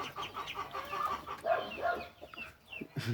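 Hen clucking steadily amid high, chirping peeps of chicks, a busy layered mix of close fowl sounds with no talk.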